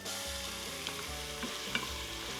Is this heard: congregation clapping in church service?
no